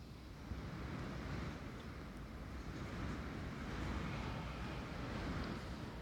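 Strong wind buffets the microphone on a very windy day in a town, producing a continuous loud low rumble and hiss with no speech over it.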